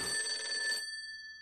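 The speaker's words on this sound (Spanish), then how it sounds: "El teléfono está sonando." A telephone rings in the video game Persona 4 Golden, a fast trilling electronic bell burst lasting under a second before cutting off, leaving a faint fading tone.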